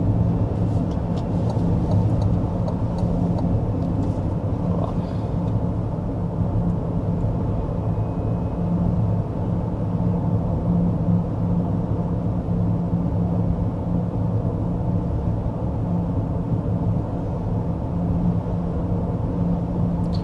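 Cabin noise inside a 2026 Cadillac Escalade IQL on the move: a steady, loud, low road and drivetrain rumble that holds even for twenty seconds, with no one speaking.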